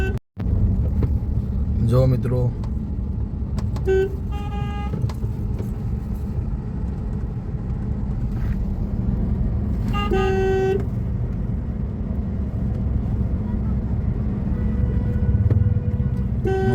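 Road traffic near the Ramdev Pir temple at Vagadi, on the Sabarmati river bank, with a steady engine rumble and car horns tooting repeatedly, in short bursts and longer blasts. Someone speaks briefly.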